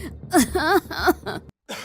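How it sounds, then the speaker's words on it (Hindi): Several harsh, strained coughs and throat-clearing sounds from people choking on chili tempering smoke indoors, in quick succession, close and loud, followed by a short silence. "सभी बुरी तरह से मिर्ची की वजह से खांसने लगते हैं"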